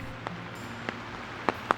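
Light rain on a Paris street gives a faint, steady hiss, broken by a few sharp, isolated taps and drips.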